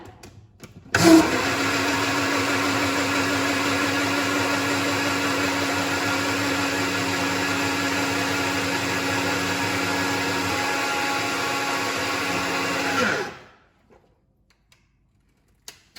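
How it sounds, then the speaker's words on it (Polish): A blender kicks on abruptly and roars steadily at full power for about twelve seconds, a loud whirring motor drone, then winds down and stops. "Zamykamy blender. A teraz uwaga, bo będzie bardzo głośno, ale tylko chwilę."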